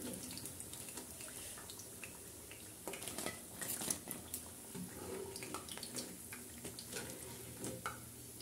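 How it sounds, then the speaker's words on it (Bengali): Cauliflower pakoras deep-frying in hot oil, producing a soft, continuous bubbling sizzle with occasional stirring and clinking, faint and close. "এভাবে আমি একে একে সব পাকোড়াগুলো ভেজে নেব।"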